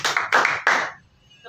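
A group of people clap in unison in a classroom group session: three sharp, loud claps in quick, even rhythm, then near quiet.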